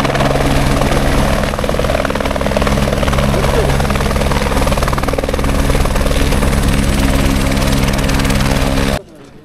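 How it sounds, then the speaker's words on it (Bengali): A helicopter lands at the Kedarnath helipad, its rotor beating loud and steady at close range, with a voice speaking over the continuous roar. "দেখো হেলিকপ্টার ল্যান্ড করছে"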